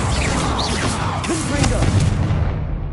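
An Incendio fire spell cast in the game Hogwarts Legacy, a loud continuous whooshing roar of flame with rumbling layered beneath it, holding steady throughout.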